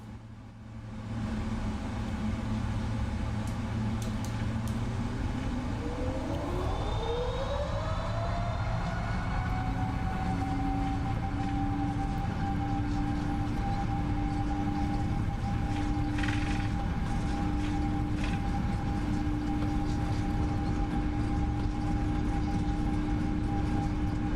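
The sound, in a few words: PMDG 777 jet takeoff, video game MSFS 2024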